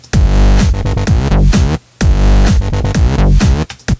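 Fat synth stab from the ES1 synthesizer in a complextro electronic track, playing loud and dense in short repeating hits with sweeping, pitch-dropping tones across a two-bar pattern, with no talking.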